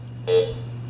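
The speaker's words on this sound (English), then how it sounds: "If you move it, it beeps." A single short electronic beep from a metal detector sounds once, close and clear, over a constant low hum.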